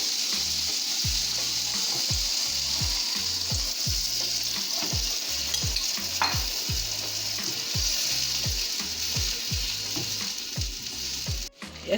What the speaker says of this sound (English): So we're going to put down our fish in the coconut milk with curry.